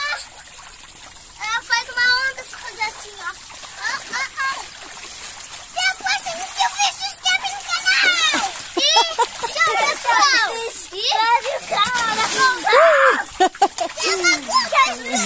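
Children chatter and shout near water, with a few splashes of someone jumping in, the loudest splash late in the clip.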